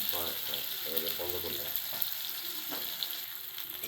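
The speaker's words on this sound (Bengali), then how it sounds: "পেঁয়াজটাকে একটু লাল লাল করে ভেজে নেব, হালকা লাল করে।" Chopped onion fries in a pan after black cumin seeds, giving a steady close sizzle with faint crackles and a voice talking over it.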